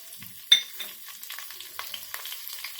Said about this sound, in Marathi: तेल गरम झालं की जिरं टाकायचं ही हिरवी मिरचीही टाकून घेऊया